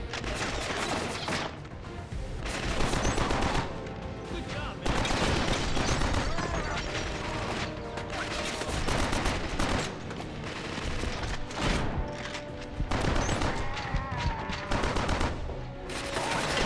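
Gunfire fills a Killzone: Mercenary firefight, with loud sustained bursts of automatic fire and heavy blasts rolling almost without pause.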